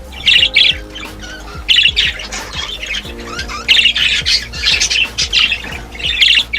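A budgie chick squawks loudly and close up in repeated harsh bursts, with softer chirps and fluttering between them and no voices.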